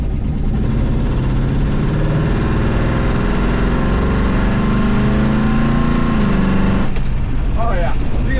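A 440 cubic inch big block V8 engine in a 1967 Dodge Coronet rumbles loudly and continuously, its pitch climbing slightly before dropping; a voice briefly murmurs under it near the end.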